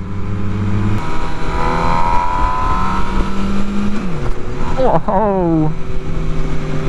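An MV Agusta Brutale 1000 RR motorcycle with 200 hp, its engine droning and rising in pitch through the gears, one sharp revving surge near the end, all under someone speaking over the ride.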